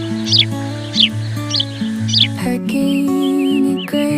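Cartoon chicks chirp in short bright bursts repeated about every half second over a steady musical backing, with a few higher tweets near the end, loud and close.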